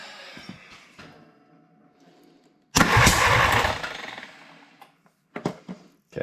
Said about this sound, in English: it's back firing up the carburetor.